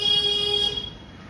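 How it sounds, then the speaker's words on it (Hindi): Vehicle horn honking at a road bend, a single steady tonal blast close by that fades out after about a second. "हॉर्न बजाए जा रहे हैं भाई"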